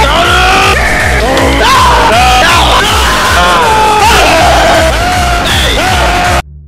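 A voice imitates a loud, sustained yelling scream for help, bellowing continuously with rising and falling pitch for about six seconds before cutting off abruptly.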